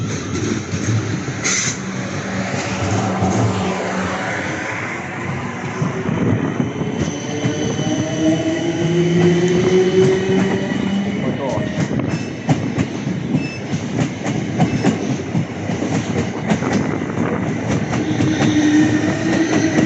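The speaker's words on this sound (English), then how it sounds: "Get ready to depart, or arriving and departing Clapham Junction for London Waterloo." A British Rail Class 455 electric train pulls away from Clapham Junction toward London Waterloo, rumbling loud and close with a rising motor whine, rhythmic clickety-clack over rail joints and occasional wheel squeal.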